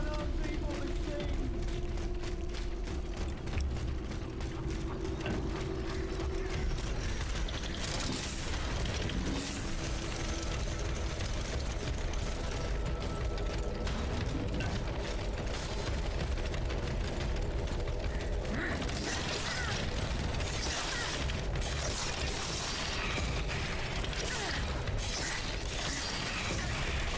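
Sinister machine mechanisms in a video game grind and clank with metallic crashes and booming hits, layered over a dense, loud, continuous wash of game noise.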